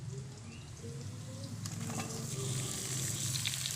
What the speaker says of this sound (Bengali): তারপরে কিন্তু আমি ভেজে রাখা পটল আলু সেগুলো কিন্তু আমি দিয়ে দেব।